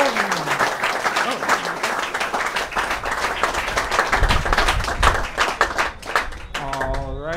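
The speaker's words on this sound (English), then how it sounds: "big round of applause" A live audience claps steadily after a talk on marine technology at an evening venue event, dense broadband applause lasting throughout, with some crowd voices mixed in and a person speaking briefly at the end.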